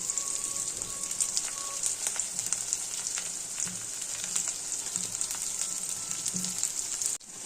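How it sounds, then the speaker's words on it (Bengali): Capsicum, chilli and garlic fry in oil for pasta with a steady, even sizzle and scattered faint crackles, close by. "ভাজতে দিলাম সব ক্যাপসিকামটা লঙ্কা রসুন সব দিয়ে দিলাম এবার সব এগুলোকে একটু ভালো করে ভেজে নেব"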